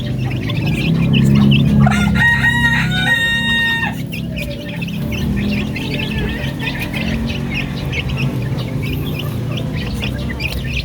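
Darag native chickens crow and cluck in a yard, with one loud crow early on over a steady bed of clucking and scattered chirps from many birds nearby.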